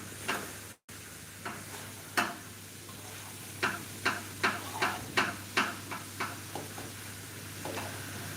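Chickpeas and rice stirred in a pan, a series of sharp scraping taps from the spoon against the pan at a steady rhythm over a faint sizzle and low hum, fairly quiet and close.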